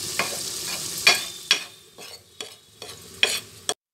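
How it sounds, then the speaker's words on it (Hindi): Onions frying in hot oil for a Lucknow-style nalli nihari, with a steady sizzle broken by several sharp stirring scrapes of a spoon against the pan, close up and with no talking. "प्याज फ्राई हो रहे हैं"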